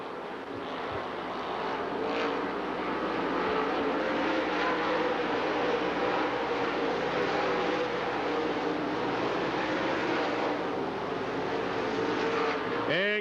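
Sportsman race cars circling a 3/8-mile clay oval at Dixie Speedway in Woodstock, Georgia, a continuous loud roar of engines droning and revving from a distance, with no clear voice on top.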